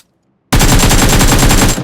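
M4 rifle firing in a video game: a loud, close, rapid automatic burst of evenly spaced shots starting abruptly after a short silence and running to the end.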